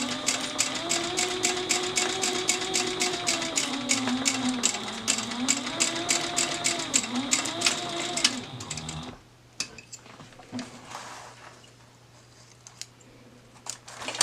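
A sewing machine stitches up to the edge of a bag in a fast, even whirring run lasting several seconds, then cuts off abruptly, leaving a quiet room with faint handling noises.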